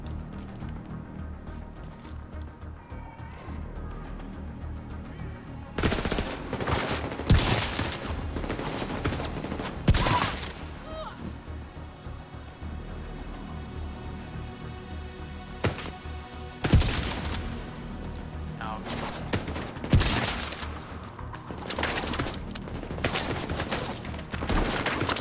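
Video game gunfire set in New York: rapid fusillades of shots in two dense bursts, loud and close, separated by quieter stretches of background game ambience with no talking.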